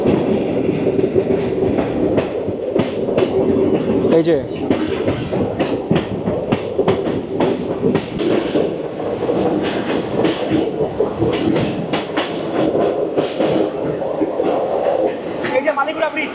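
Passenger train on the Koraput line running over the rails, with steady clickety-clack and a continuous rumble throughout, heard from on board while a voice briefly speaks.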